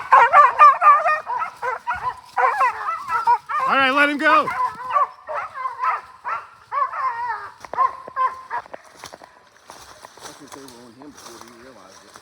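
Hunting dogs on a bear hunt give repeated excited barks, yips and whimpers in irregular bursts, loud and close at first then thinning out, with someone talking briefly among them.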